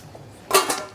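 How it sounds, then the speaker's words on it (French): A lid clatters down onto a cooking pot of simmering fricassée of poultry with carrot, bouquet garni and clove-studded onion, a single sharp metallic clank followed by a brief ringing rattle, close and alone. "Et maintenant, on couvre et on laisse cuire."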